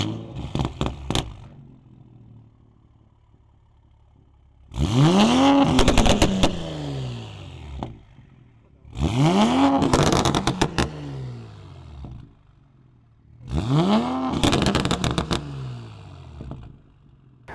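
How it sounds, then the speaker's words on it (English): Toyota A90 Supra fitted with a Tomei Type D titanium dual-exit exhaust and a race downpipe, revved three times from a low idle, each rev a loud sweeping rise and fall lasting about three seconds, with quiet idle burble between. "here is the Tomei Type D dual exit exhaust"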